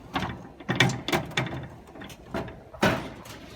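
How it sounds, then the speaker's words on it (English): The screw-down stabilizer foot of a 2023 Forest River Surveyor 252RBLE travel trailer is turned loose, giving repeated close ratcheting clicks and grinding metal bursts in an uneven rhythm, with no talking. "So we're just gonna unscrew that foot real quick."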